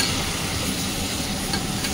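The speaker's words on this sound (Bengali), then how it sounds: "ব্যাস ভালো করে এবার একটু নেড়ে ছেড়ে এটাকে" Fish frying with ginger-garlic paste and salt in a pan for masala fish, a dense continuous sizzle heard close up for a couple of seconds, with no voices.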